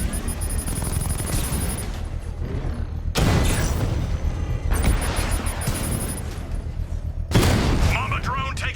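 Heavy gunfire and booming combat rage against a Mamba drone in Batman Arkham Knight, dense rattling bursts and explosions in loud waves with sharp surges.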